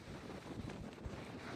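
A strong wind gust sweeps across a mountain trail in the Roan Highlands on the Appalachian Trail, a steady roaring rush buffeting the microphone with a rumbling low end throughout.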